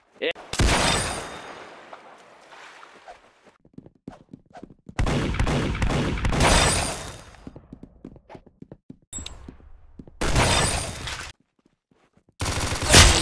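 Gunfire in the Arsenal video game: several loud bursts of shots come in separate volleys with short pauses between them, and voices talk over the action.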